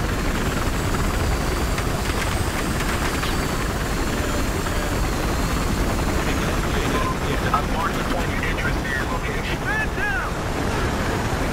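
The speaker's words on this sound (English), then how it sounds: "No, it's the enemy chopper." Enemy helicopter in the Battlefield Hardline game, a steady continuous rotor drone filling the whole span at constant loudness, with wind-like rushing noise and faint game sounds mixed in.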